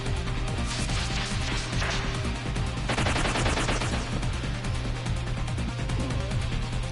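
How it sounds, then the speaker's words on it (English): Firecrackers in the video game Legend of Mana, a steady, dense crackle of rapid pops that runs without a break under constant game music. "Don't worry about the firecrackers"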